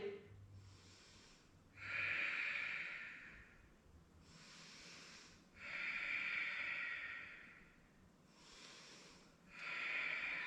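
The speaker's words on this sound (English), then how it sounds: "Finding your breath, Ujjayi." Slow, deep Ujjayi breathing during a yoga power flow, three long hissing breaths, each swelling and fading, with quiet pauses between them and no talking.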